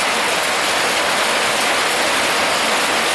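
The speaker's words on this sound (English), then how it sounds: "I can't believe it's pouring so hard like I haven't seen yet this year" Heavy rain pours down in a steady, dense roar, loud and constant with no breaks, drowning out everything else.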